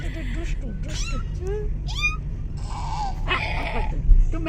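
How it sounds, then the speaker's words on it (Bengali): A cat meows several times in short, rising calls, close by, mixed with a person's voice coaxing it and a low background hum. "মাও ডাকো একটু।"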